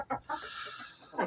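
Purebred hens of Kuchinsky and Barkovsky breeds cluck in a coop, a few short, quiet clucks in an uneven rhythm, close but faint, with one louder cluck at the end.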